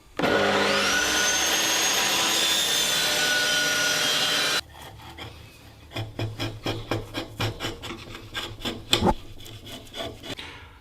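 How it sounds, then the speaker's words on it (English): A table saw cuts wood to remove material, first as a loud steady whining roar of the blade in the cut, then giving way to a series of close rhythmic rasping strokes. "the next thing I will do is just removing all this material with the table saw"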